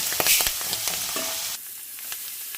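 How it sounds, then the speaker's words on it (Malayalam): Mussels frying in hot coconut oil in a kadai give a loud, dense hiss and crackle, with stirring clatter, then the sizzle drops to a softer steady fry partway through. "എണ്ണ ചൂടായിട്ടുണ്ട് ഇതേപോലെ ഫ്രൈ ചെയ്യും"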